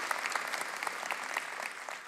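Audience applause at a Christmas show, a steady patter of many hands clapping at moderate distance, continuous for a couple of seconds before easing off slightly.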